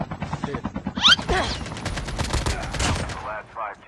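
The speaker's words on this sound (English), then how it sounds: "we hear some shots popping off down by the harbor" Bursts of rapid gunfire crackle from Call of Duty Mobile battle royale near a harbor, mixed with faint voices and other effects in the background.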